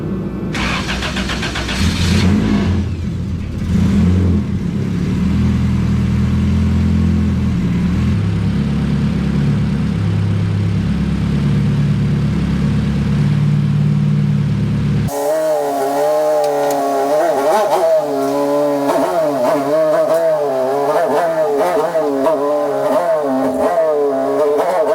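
An all-motor Honda EF hatchback idles roughly for about fifteen seconds with low, steady engine rumble, then the sound shifts abruptly to a higher, wavering rev as the throttle rises and falls, loud and close with no talking.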